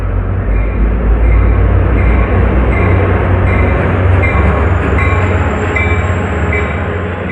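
An EMD F40PH-2CAT diesel passenger locomotive rolls past close by at Secaucus, New Jersey. Its loud, steady rumble carries faint rhythmic wheel clatter, then eases slightly at the end.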